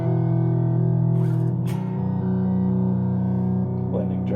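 Electric guitar runs through a Rossum Panharmonium effect set to a triangle waveform, sustained tones shifting in clear steps with a dense, shimmering harmonic texture, loud and upfront.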